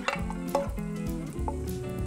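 Chopped onion sautéing in a heated pan, with close sizzling broken by a few sharp scrapes and clinks of a utensil against the pan, no voices.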